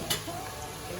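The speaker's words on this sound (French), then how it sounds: "je fais bien griller les poivrons" Bell peppers grilling in a pan with oil, a soft close sizzle with a brief stir or scrape near the start, one short burst of cooking noise.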